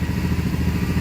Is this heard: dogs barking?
no